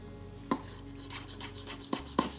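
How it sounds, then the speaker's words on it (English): A knife slicing chilli into rounds on a board, with three sharp chops and softer scraping between them, close and without talk. "cut into rounds."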